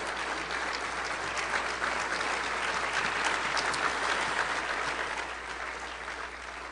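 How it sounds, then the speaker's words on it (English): Sustained applause from a banquet audience at a state bowling association gala, honoring scholarship-winning youth bowlers; dense, steady clapping from a large crowd that continues at full strength throughout. "let's give one more big round of applause to the bowlers of tomorrow that we have here with us tonight"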